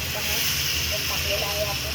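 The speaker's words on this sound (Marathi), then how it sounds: "आता आपण त्याच्यामध्ये हे बघा मटण टाकून घेऊया" Washed mutton goes into a hot pressure cooker pot, raising a steady, loud broadband hiss and sizzle that holds throughout, with a faint voice murmuring underneath.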